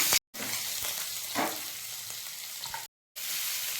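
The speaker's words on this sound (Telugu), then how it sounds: "కాస్త తరిగిన పచ్చిమిర్చి మరియు జీడిపప్పు యాడ్ చేసుకున్నాను." Biryani whole spices, chopped green chillies and cashews sizzle and crackle in hot oil, a continuous frying hiss broken by two abrupt silent gaps.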